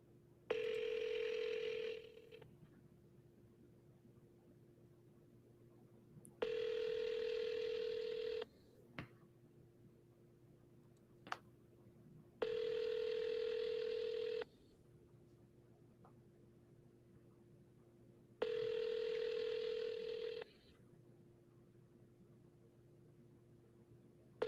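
Cell phone placing an outgoing call, the ringback tone repeating in four long even bursts with silent gaps between, loud and close with no talking over it.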